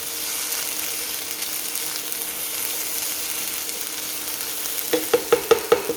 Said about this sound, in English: That's how you stir fry veggies.